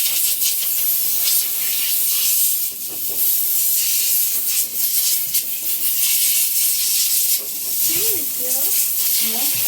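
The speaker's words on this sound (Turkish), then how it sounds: "Buhar kaynaması lazım ondan dolayı." A household steam cleaner hisses steadily at close range, a continuous airy rush of steam that runs almost unbroken, with a faint voice briefly audible near the end.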